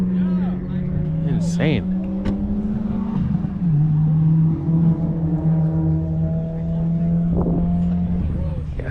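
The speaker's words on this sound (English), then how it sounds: "You hear that cold start over there?" A BMW engine idles high and loud on a cold start nearby with a steady rumbling drone, pitch dipping slightly midway; a voice speaks briefly over it.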